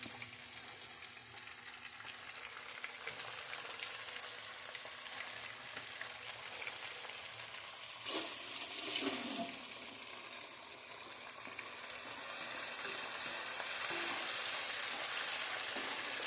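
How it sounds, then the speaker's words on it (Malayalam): Onion and tomato frying in a pan, a continuous close hiss of oil with a brief louder burst midway, then the sizzle swelling stronger and brighter toward the end. "അപ്പോൾ ഉള്ളി ഏകദേശം ഫ്രൈ ആയിട്ടുണ്ട്. അതിലേക്ക് നമ്മൾ തക്കാളി ആഡ് ചെയ്യാൻ പോവുകയാണ്."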